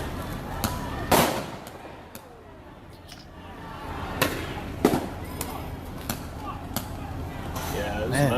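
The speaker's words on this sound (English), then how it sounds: "There's another mortar shell that came over the fence." Firework mortar shells come over a fence into a crowd, popping and cracking in several sharp bursts at varying distances over a noisy background with people talking.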